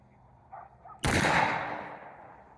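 A single sharp, loud muzzleloader rifle shot from a cheap pawnshop gun cracks out after a faint lead-in, its boom decaying over about a second and a half outdoors.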